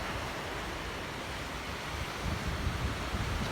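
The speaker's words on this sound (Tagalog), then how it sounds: "Tsaka yung waves." Ocean waves wash steadily onto Dahican Beach in Mati City, a continuous broadband surf roar with slight swells toward the end, near and fairly loud, with no voices.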